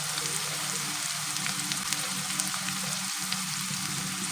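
Green chillies and curry leaves frying in hot oil in a pan, a steady soft sizzle with faint crackles and occasional stirring taps, close and fairly quiet.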